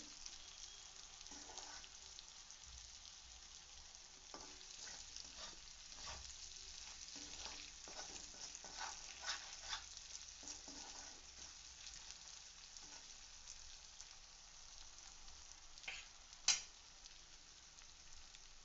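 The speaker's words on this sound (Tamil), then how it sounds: "சிம்ல வச்சு பொறுமையா வதக்கி." Narthangai (citron) pickle ingredients sautéing in gingelly oil on a low simmer, a soft, steady sizzle with faint stirring scrapes throughout and one brief sharper clink near the end, no talking.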